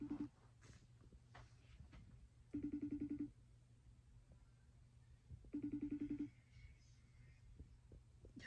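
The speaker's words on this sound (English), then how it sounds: "I'm about to FaceTime him." A phone rings out for an outgoing FaceTime video call, two short electronic ring bursts spaced about three seconds apart over a low steady room hum, with no talking.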